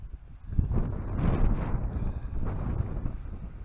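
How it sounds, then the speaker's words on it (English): Gusty wind at a wild camp on Warnscale Head rumbles and buffets steadily against the microphone, swelling in a few stronger gusts, with no talking. "Very breezy now."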